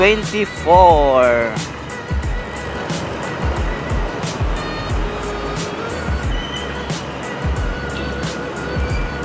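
Road traffic on EDSA on a Friday, with passing cars and motorbikes giving a steady, close hum and whoosh, a brief tire squeal near the start and repeated clicks over the continuous rumble.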